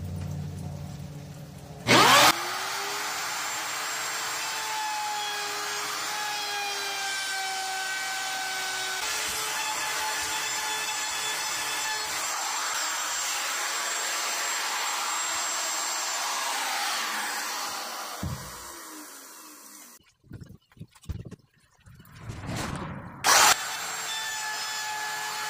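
Power sanding of wood during a house remodel: a steady, loud, whining motor drone that runs continuously for most of the stretch, then stops and gives way to brief bumps and handling noises.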